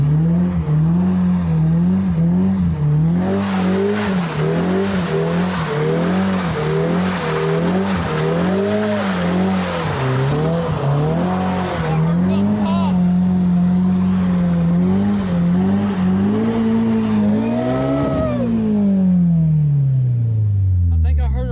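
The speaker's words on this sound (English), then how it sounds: "Maybe do a drift with both of us in it." A Honda S2000 with two people aboard drifts, its engine revving hard and rising and falling steadily with tire squeal, loud and close throughout, ending in a falling rev as it slows, with voices mixed in.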